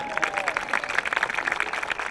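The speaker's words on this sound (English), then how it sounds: "Generally, the SMLE gets spontaneous applause" Spontaneous applause from an outdoor audience at a WW1 living-history demonstration of the SMLE rifle: a steady, dense patter of many hands clapping that holds for a couple of seconds with no voices on top.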